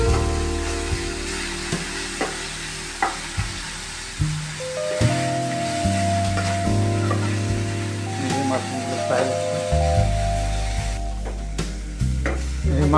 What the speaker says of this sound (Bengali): মাশরুমগুলোকে ঠিক মতো করে ফ্রাই করতে হবে।